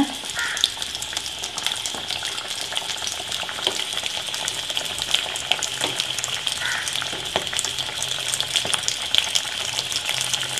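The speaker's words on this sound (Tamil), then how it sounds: "எண்ணெய் சூடானதும் நான் பொரிச்சு எடுத்துக்கலாம் இப்போ எண்ணெய் சூடாயிடுச்சு நான் ஒவ்வொன்றா போட்டுக்கிறேன்" Wheat flour snacks deep-fry in hot oil, giving a steady, dense sizzle and crackle that runs the whole time at moderate volume.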